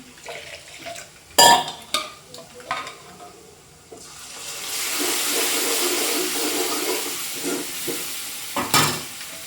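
Dal palak being stirred and poured into a pan, with sharp scraping clinks early on, then a sustained broad sizzling wash building midway and ending with a couple of utensil knocks.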